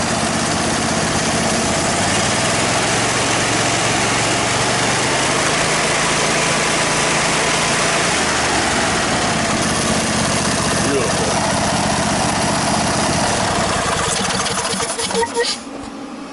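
A lawn mower engine runs steadily at idle after a carburetor cleaning, a loud continuous near drone with a slight shift partway through before it cuts down at the end; a voice talks over it.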